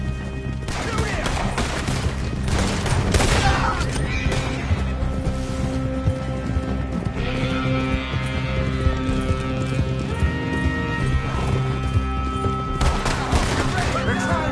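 Rapid gunfire rattles in a PS4 video game against a busy background of galloping hooves and shouted in-game voices, the shots coming in bursts throughout.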